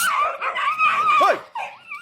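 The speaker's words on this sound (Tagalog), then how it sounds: "Maingay po yung mga aso." Dogs yelp and whine in a run of close, high, wavering cries, one short bark standing out near the end.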